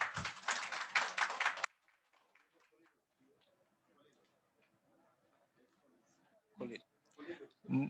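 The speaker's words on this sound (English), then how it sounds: "Big round of applause, ladies and gentlemen." A short burst of clapping at a certificate-giving ceremony for international trade training experts, loud for about a second and a half, then near silence with faint murmurs before a voice speaks.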